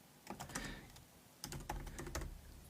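Rapid computer keyboard typing, close and clear, in two bursts separated by a short pause while a commit message is written during a Python programming lesson.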